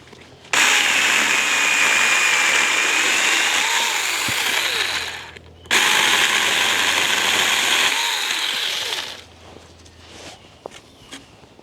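A 2.5 inch thick wooden post is cut with a small power saw at a wild camp, loud close buzzing in two long bursts separated by a brief pause, then quieter tail.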